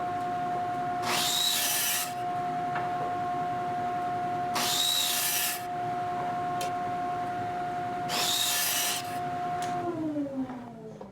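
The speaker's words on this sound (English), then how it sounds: "we are ready to start cutting the maple slats for the top of the table" A power saw cuts maple slats into rough lengths in a workshop, making three separate bursts of whining, rasping cutting about two seconds each, with a steady tonal motor hum running underneath between the cuts.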